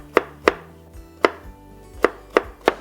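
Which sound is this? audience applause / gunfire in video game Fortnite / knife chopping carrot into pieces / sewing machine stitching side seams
knife chopping carrot into pieces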